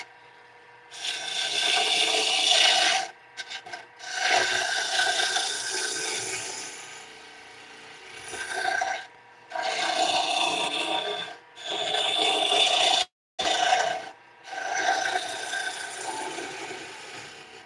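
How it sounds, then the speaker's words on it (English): A bowl gouge cuts wood on a spinning lathe, giving a rasping, scraping hiss in several long bursts separated by short pauses, close and fairly quiet. "I do actually like using the bowl gouge for these."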